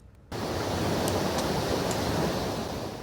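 A steady, dense roar of rushing water starts abruptly and continues unbroken, loud and close, with no voices.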